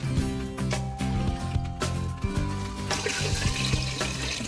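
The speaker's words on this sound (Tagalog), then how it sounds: "Lagyan natin ng tubig." Tap water runs and splashes into a cooking pot set on the stove to boil mung beans, a steady continuous pour heard close up with no talking.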